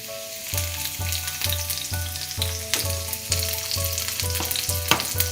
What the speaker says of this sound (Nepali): तेल तातेपछि मैले यसमा राखेँ 1 ठुलो चम्चा मसिनो गरेर काटेको अदुवा लसुन। त्यसैगरी एउटा हरियो खुर्सानीलाई पनि मैले राखेँ